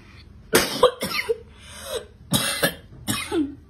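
A woman coughs repeatedly in harsh, wet bursts, about five separate coughing fits spread out with short pauses and throat sounds between them, close and fairly loud with no talking.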